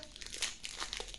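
Foil wrapper of a Pokémon card booster pack being crinkled and torn open, a short burst of close, quiet plastic rustling and crackling.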